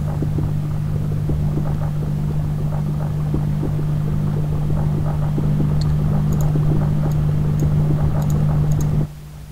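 Fuel-powered engines in Minecraft hum in a steady low drone with faint ticking and clicks on top, running continuously until the level drops suddenly near the end.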